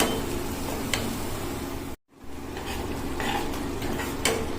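Vegetables sautéing and being stirred in a pan over low gas heat for a paneer dish, with a steady sizzle and scraping of a utensil, briefly cut off by a short gap midway, no talking.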